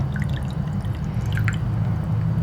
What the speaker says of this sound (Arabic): شوفوا قديش بدي أعبي الكاسة مي